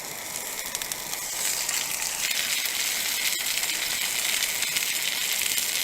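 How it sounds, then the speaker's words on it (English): Meat searing in a pan at a sub-zero winter campsite, a steady close sizzle and hiss that holds throughout with no talk. "just want to sear it on both sides"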